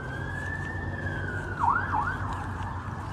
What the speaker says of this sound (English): I think it's a police car responding